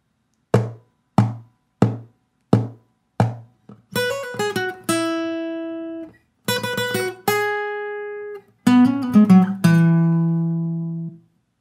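A guitar riff is played alone: five short, evenly spaced plucked notes, then a few ringing notes and chords that sustain and decay, clear and close.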